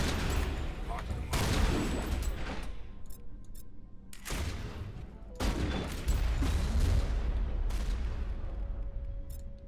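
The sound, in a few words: sniper rifle fire in the video game Mass Effect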